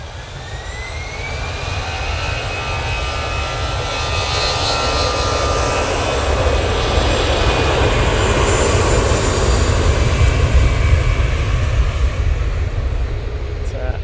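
A KLM Embraer E190 arriving from Amsterdam Schiphol gives a loud, sustained jet roar that swells steadily as it approaches, with a rising whine audible underneath.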